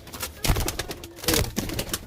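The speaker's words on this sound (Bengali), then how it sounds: "পায়রা দেখুন কেমন" Pigeons coo softly in a loft holding Chini Kaldum and Laldum breeds, with low, rounded calls rising twice among rustling and shuffling.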